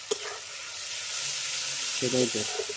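Meat curry masala frying in oil, a steady close sizzle across the whole stretch, with a couple of brief stirring scrapes near the end.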